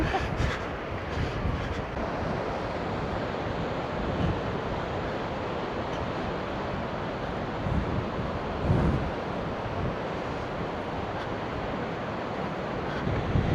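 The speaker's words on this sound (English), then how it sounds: "It's still splashing well over that harbour wall" Rough sea pounding and splashing over the harbour wall at Seaham on a breezy day, a steady broad roar of surf mixed with gusty wind buffeting the microphone, continuous and fairly loud with a few heavier surges.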